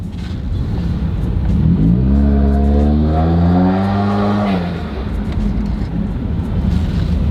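Subaru WRX with the FA20 engine accelerating, a rising engine note sweeping up through the gears over a few seconds then easing off, heard from inside the car with road rumble.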